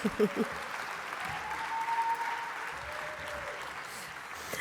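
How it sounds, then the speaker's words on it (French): An audience at a trade union congress applauds steadily, a dense continuous patter of clapping that holds for several seconds, with a voice briefly heard at the start and faint tonal sounds in the hall. "Vous pouvez l'applaudir quand même."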